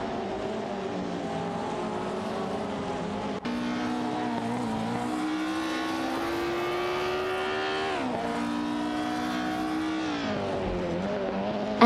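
Race cars, including a Matra MS7, howl around the track in an AI race, engines climbing and dropping through gear changes in a loud, sustained roar with a sharp shift partway through.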